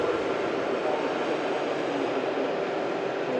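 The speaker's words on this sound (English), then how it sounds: "Emirates A380 just taxiing right past us" An Emirates A380 airliner taxiing past at Manchester Airport gives a steady, broad jet roar that holds level and fairly close throughout.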